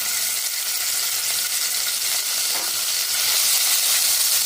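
Chicken frying in oil in a pan gives a steady, close, bright sizzle that holds evenly throughout with no voices.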